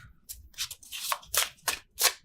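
Quick papery flicks and slides of tarot cards being shuffled by hand, not riffled, coming in about five short bursts, close and fairly quiet.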